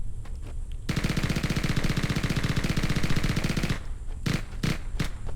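Rapid burst-fire gun shooting in the Halo game, a loud continuous rattle of tightly spaced shots lasting about three seconds, followed by a few shorter separate bursts.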